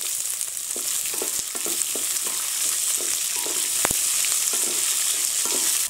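Chopped onions sauté in a pan with curry leaves and green chilies, giving a steady, close sizzle and frying hiss alone, punctuated by light clicks of a spoon stirring.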